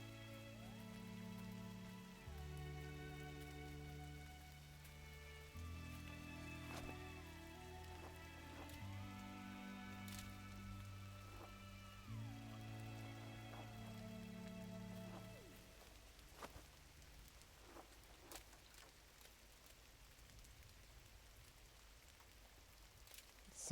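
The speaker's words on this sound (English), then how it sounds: "Sound design on the rain is really good." Rain falls in the video game GRIS, a steady soft patter with small taps on surfaces. It starts beneath a calm tonal music track, then carries on alone and clearer near the end.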